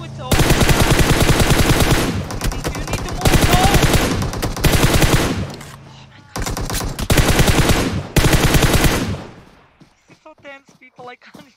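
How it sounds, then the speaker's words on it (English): Loud, near automatic gunfire from the PUBG Mobile battle royale game rips out in long sustained bursts separated by short gaps, then gives way to quieter sparse sounds near the end. "He will try to shoot."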